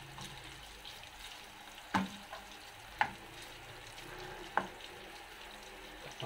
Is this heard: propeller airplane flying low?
no